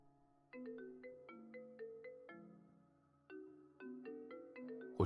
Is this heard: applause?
no